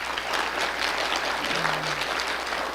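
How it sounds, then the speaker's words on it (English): A crowd applauds for children at a live event: sustained, even clapping from many hands, moderately loud and continuous for the whole stretch, with no talk over it. "One more round of applause for all of our kids."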